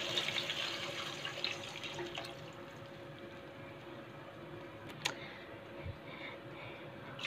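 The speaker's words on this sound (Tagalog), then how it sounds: "Lagyan natin guys ng 2 basong tubig." Water pours steadily into a cooking pot for chicken noodle soup, a soft continuous splashing stream heard close and fairly quiet, with a couple of faint clinks and no talking.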